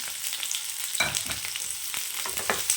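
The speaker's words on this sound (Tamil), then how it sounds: "வெங்காயம் நல்லா வரைஞ்சி வரட்டும் கருவேப்பிலை சேர்த்துக்கலாம் கூடவே கொஞ்சமாக தேங்காய் சீல் சேர்த்துக்கலாம்" Sliced onions sizzle in hot oil with curry leaves and a little coconut for a Tamil-style fish curry. The frying is close and steady, with crackles and occasional stirring scrapes.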